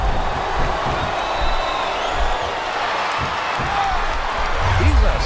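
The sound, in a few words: crowd noise in a video game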